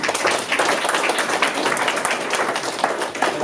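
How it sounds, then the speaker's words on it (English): Audience applause at a real estate house-flipping seminar, dense steady clapping from many hands filling the whole stretch without a break, close and loud. "they should get an applause"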